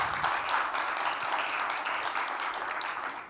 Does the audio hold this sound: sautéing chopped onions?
no